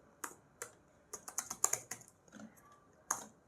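Close, quiet keystrokes on a computer keyboard come as irregular clicks and tapping bursts, a few single presses followed by a quicker flurry of typing.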